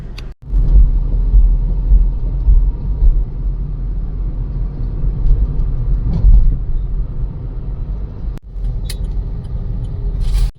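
Steady road traffic near Cyber Gateway in Hitech City, Hyderabad: a continuous low rumble of passing cars and other vehicles, fairly close and loud, with a couple of brief breaks and no talking.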